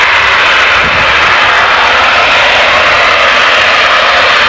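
A gas compressor station blowdown vents through an opened valve in a loud, continuous broadband roar. The rushing jet-like hiss holds steady and overwhelming throughout, with no break.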